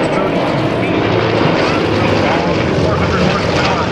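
Three Yak-52 propeller aerobatic aircraft with 400-horsepower engines fly in tight Vic formation at an airshow, making a loud, steady, continuous engine drone that stays constant throughout.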